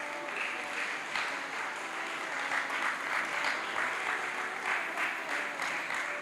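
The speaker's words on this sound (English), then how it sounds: "Let's give them a warm round of applause." Applause from the audience at a Year 11 graduation ceremony, a soft, distant, even wash of many hands clapping steadily with no talk over it.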